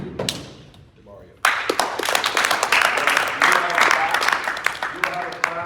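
Applause for a middle school varsity award winner, a sudden burst of clapping and thumps from a gathered group that starts after a quiet moment and continues steadily, with voices mixed in.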